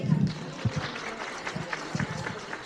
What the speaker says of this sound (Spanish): lo recibimos con aplausos